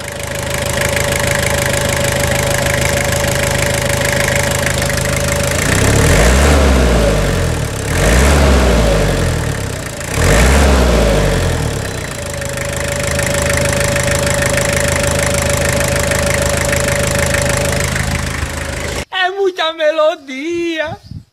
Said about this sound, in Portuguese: Vamos escutar só a sinfonia, essa melodia aqui. Na lenta, assim, na lenta da Garbosa.